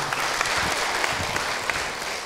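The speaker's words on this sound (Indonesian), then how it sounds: "Tepuk tangan buat Ibu Yuni." Audience applause at an Islamic religious talk show, a steady wash of many hands clapping with a few sharper individual claps standing out, continuous and fairly loud.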